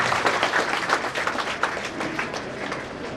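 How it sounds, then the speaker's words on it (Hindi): An audience at a book launch claps steadily for a few seconds, a dense, fairly close patter of many hands at even strength without speech. "आपकी तालियां जोरदार बजे"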